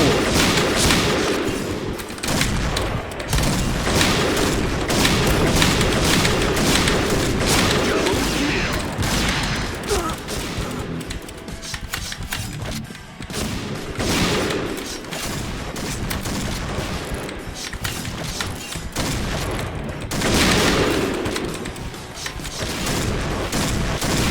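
Continuous rapid gunfire and explosions from the online shooter Point Blank, loud and dense across the whole stretch, with brief lulls between volleys.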